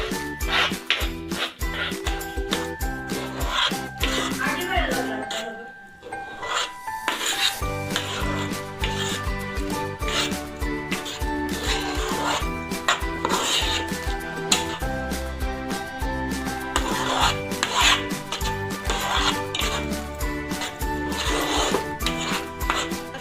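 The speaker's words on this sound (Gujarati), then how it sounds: "રવું ઉમેરીને આપણે બરાબર એને હલાવી દેવાનું છે જ્યાં સુધી આ જાડું ના થઈ જાય" A spoon stirs and scrapes through thick semolina batter for medu vada in a home kitchen pot, making steady, repeated rubbing and grating strokes close up, with a brief pause partway through.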